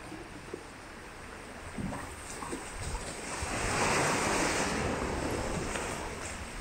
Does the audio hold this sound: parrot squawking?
no